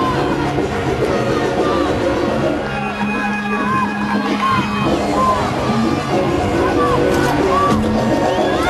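Arena crowd at a 2007 NCAA gymnastics Super Six meet in Salt Lake City cheers, whoops and shouts steadily throughout, a dense roar of many voices with scattered yells rising above it.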